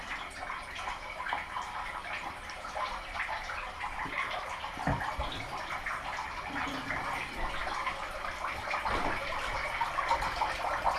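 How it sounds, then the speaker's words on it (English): Water runs continuously into a darkroom sink, a steady hissing splash with small clinks and drips under it, close and moderately loud. "A bit of water."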